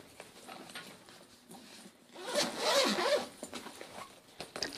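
Tent partition zipper pulled open on a camping tent, a loud continuous zip in the middle with faint rustling and small clicks of fabric before and after, close up with no talk.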